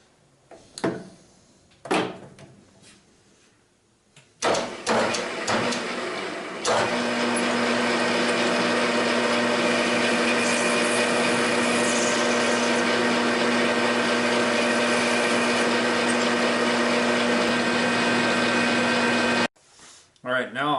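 A metal lathe skims a Moen faucet cartridge part down to about 1 1/4 inch, a steady loud cutting whine with a low hum running for about fifteen seconds after some brief clanks, then stopping abruptly.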